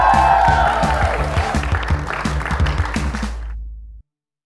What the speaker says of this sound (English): Can we have a huge round of applause for Shriya Pilgaonkar, Barkha Singh, Jim Sarbh Spirit